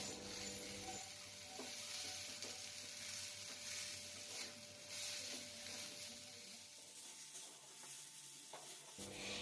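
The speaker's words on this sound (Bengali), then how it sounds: "আমি নেড়ে চেড়ে ভেজে নিচ্ছি, না হলে নিচে লেগে যেতে পারে।" Jute leaves fry in a pan with a soft, continuous sizzle, broken by occasional light scrapes of stirring, fairly quiet throughout.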